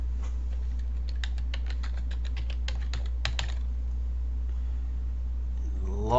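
Password being typed on a computer keyboard: a run of quick, close key taps in an uneven rhythm over a steady low hum, then stopping and leaving only the hum.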